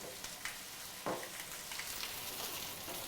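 Bourbon poured into a hot pan after searing Berkshire pork chops sizzles and crackles steadily, a close, continuous frying hiss with small pops throughout.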